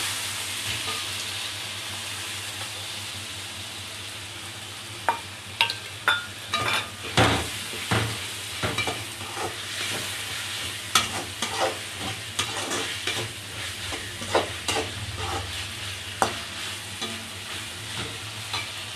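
Chopped tomatoes sizzle with fried onions in a pan for chicken gravy, a steady close frying hiss broken by a run of sharp spatula scrapes and clinks against the pan; no one speaks.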